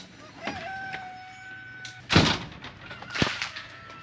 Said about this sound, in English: I don't know if you heard that when I shut the door, but this water, the condensation in the greenhouse just fell all of a sudden.